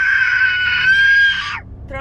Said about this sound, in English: Throwing shoes and yelling are the two new things in the car.